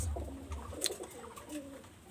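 Pigeons kept for sale coo softly nearby, giving a few low, rolling coos over a quiet background hum.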